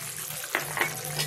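Cream is stirred into paneer do pyaza in a hot pan, with a steady close sizzle and a couple of brief scraping strokes from the spoon, and no voices.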